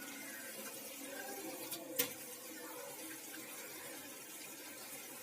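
Water trickles into a pan of stuffed potatoes on low heat, poured in along the edge while cooking, a faint steady wash with one brief louder splash partway through.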